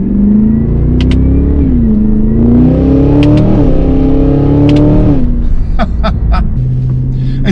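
A 2024 Cadillac Escalade V's loud exhaust booms as the engine revs and accelerates, pitch climbing and dropping through shifts with a heavy, close rumble and sharp crackles near the end.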